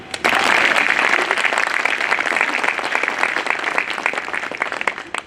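Sustained audience applause at a Bar Council of Delhi enrolment meeting, a dense, steady wash of many hands clapping that starts abruptly and carries on loud throughout without letting up.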